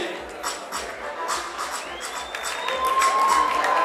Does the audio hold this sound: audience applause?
yes